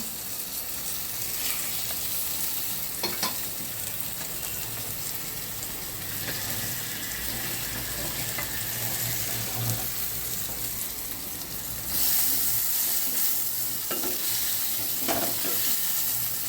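Pieces of pointed gourd (kankrol) fry in oil, a steady close sizzle with occasional scraping stirs and utensil taps throughout, the hiss swelling briefly louder toward the end.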